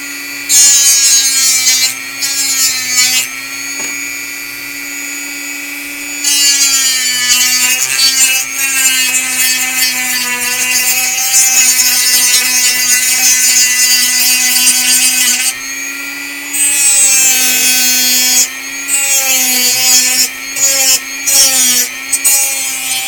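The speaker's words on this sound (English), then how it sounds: "Back to Dremel." Dremel rotary tool working in bursts during a build: a high, whining grind that rises and drops in pitch, stopping and restarting several times, close and loud with no speech.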